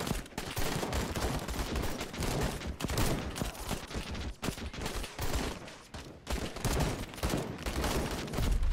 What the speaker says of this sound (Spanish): Tiene ahí una ametralladora